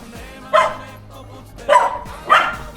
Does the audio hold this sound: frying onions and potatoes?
no